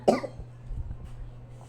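A person gives one sharp cough at the start, followed by fainter throat sounds in a quiet room with a low steady hum.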